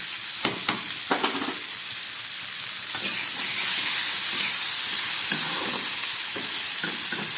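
A mixed vegetable curry sautés in a pan, loud sizzling and hissing that swells and holds steady, with sharp spatula scrapes and knocks early on and scattered stirring strokes throughout.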